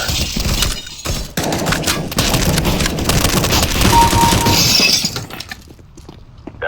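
Gunfire and explosive crashes in Counter-Strike: Global Offensive, a dense loud burst of shots and shattering impacts that fades to quiet near the end, with no voices.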